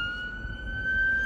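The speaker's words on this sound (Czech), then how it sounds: "Sanitka." An ambulance siren on a street, a sustained high wailing tone held steady over low traffic rumble, moderately loud, heard briefly without speech.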